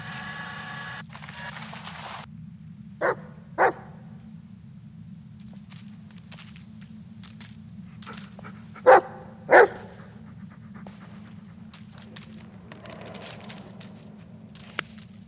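A dog barks in two separate pairs of sharp barks, moderately distant, over a steady low hum with faint scattered noises between them.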